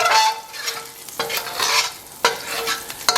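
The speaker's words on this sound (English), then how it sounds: "I'm going to start frying the goat meat." Pieces of goat meat fry in hot oil for a Javanese goat curry, a loud, close sizzle broken by scraping stirs at a roughly regular pace.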